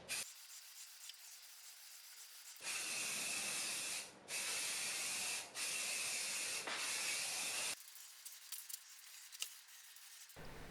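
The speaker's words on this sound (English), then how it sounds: "I grab some Rust-Oleum white primer just in a spray can. So we're just going to spray this over the entire piece." Rust-Oleum white primer hisses from a spray can onto a vintage wooden cabinet in three long close bursts separated by brief pauses, with quiet room sound before and after.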